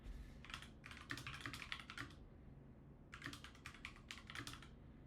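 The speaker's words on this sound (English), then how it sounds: "If I can type." Someone types on a computer keyboard in two quick flurries of soft, close keystrokes separated by a brief pause, quiet overall with no speech.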